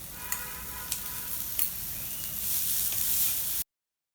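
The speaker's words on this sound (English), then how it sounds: "Saute them together and add some finely chopped onions also." Ginger, green chilies and onions sizzle and crackle in hot oil over high heat, a steady frying hiss with a few sharp stirring clicks, close and continuous before cutting to silence near the end.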